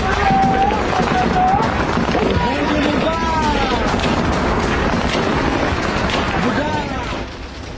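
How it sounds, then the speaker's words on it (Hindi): Gunfire and blasts from a Tehreek-e-Taliban attack on Pakistani army troops in Khyber Pakhtunkhwa crackle steadily through a dense, loud clip, with a voice and whistling tones layered over the chaotic barrage. "धमाके की गूंज को सुनकर अंदाजा लगाया जा सकता है कि तहरीक तालिबान का ये हमला कितना विध्वंसक रहा होगा।"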